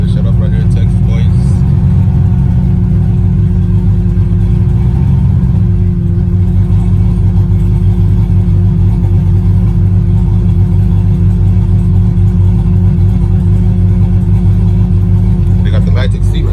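Modified truck engine rumbling loud and steady at a crowded truck meet, a low idle swelling into revs over a constant heavy drone, with people talking over it.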